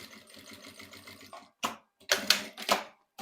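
A sewing machine stitches piping in a quick, even rattling run, stops, then gives a few short louder bursts of stitching separated by brief silences, close and alone.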